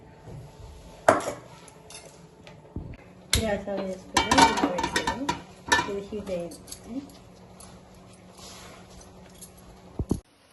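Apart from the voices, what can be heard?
pot set on stove and ghee poured in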